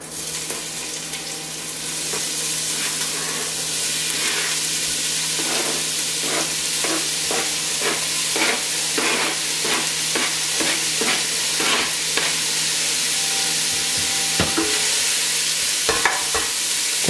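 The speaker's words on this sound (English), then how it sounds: "I'm going to go ahead and put those in the hot oil now." Chopped onions fry and sizzle in preheated hot oil for chili, with a steady broadband hiss and repeated scraping stirs building through the middle, close and fairly loud, no talking.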